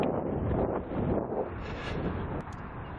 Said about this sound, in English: even with the whistle of the wind going by